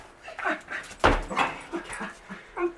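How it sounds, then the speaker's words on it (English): A dog whimpers and yips in short, high, broken cries, one sharper yelp standing out in the middle, fairly close and clear with little else around it. "Silly doggy."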